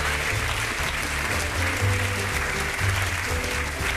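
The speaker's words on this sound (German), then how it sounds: "Ihr dürft natürlich gerne auch der Sarah mal einen Applaus geben" Studio audience clapping during the finale of a Swiss TV cooking competition, a steady, full burst of applause that holds loud and unbroken throughout, with no talk over it.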